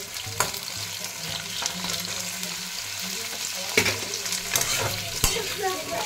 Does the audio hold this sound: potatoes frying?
yes